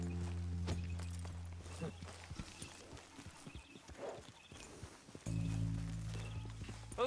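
Horses walk along a beach in Red Dead Redemption 2, hooves clopping in a steady uneven patter under low droning music, with a brief whinny-like sound and quiet background.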